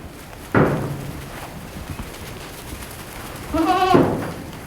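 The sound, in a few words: pregnant goats bleating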